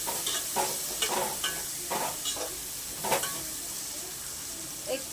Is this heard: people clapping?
no